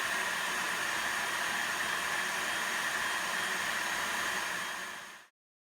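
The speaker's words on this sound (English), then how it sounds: "I've blended everything out, not too fine, like chunks, little pieces" A food processor whirs steadily while blending Scotch bonnet pepper sauce, a constant, fairly quiet motor hiss that cuts off abruptly near the end.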